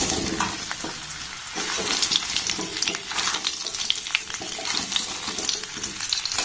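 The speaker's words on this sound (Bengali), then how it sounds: "এবার আমটাকে একটু ভালোভাবে আমি নাড়াচাড়া করে ভেজে নেব" Raw mango pieces frying in oil with bay leaf and five-spice seeds for a sweet-sour pickle over low flame, a dense continuous sizzle with stirring scrapes, close up and without speech.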